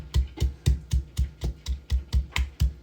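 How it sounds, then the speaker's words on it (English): Fried plantains being mashed for mofongo with a pounding tool, about a dozen steady, evenly spaced dull thuds, close and fairly loud with no talking. "So we're gonna mash, mash, mash."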